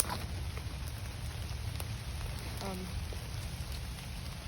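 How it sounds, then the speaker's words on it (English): Rain patters steadily on a makeshift shelter in the woods, an even close-up hiss of drops with a few sharper taps, and a brief faint voice-like sound partway through. "like it's raining as it is now"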